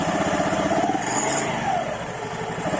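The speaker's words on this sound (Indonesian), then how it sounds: "Nah ini kita coba tes ya, digas sedikit ya, nggak usah tinggi guys ya." Honda Vario 110 scooter fitted with an aftermarket double clutch bowl, engine given a light blip of throttle: a steady, close buzzing drone with a slight rise and fall, no voices over it.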